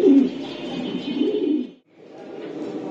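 Racing pigeons coo inside a loft, a low, throaty burbling that runs continuously for a couple of seconds, pauses briefly, then resumes more faintly, close and fairly loud.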